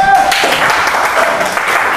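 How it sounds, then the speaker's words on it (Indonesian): Applause breaks out in a classroom of students, a steady dense clatter of clapping hands lasting the full two seconds, close and fairly loud. "tepuk tangan."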